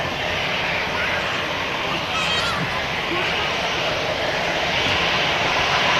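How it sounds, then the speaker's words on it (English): An EasyJet Airbus A320 passes at Manchester Airport with a loud, continuous jet engine roar that holds steady over the whole stretch, with a faint murmur of voices in the background. "Here comes an EasyJet A320."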